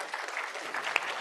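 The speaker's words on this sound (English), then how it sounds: "Stand up and give yourselves a round of applause" Brief burst of audience applause at a corporate event, steady clapping from a crowd throughout with one sharper clap standing out near the end.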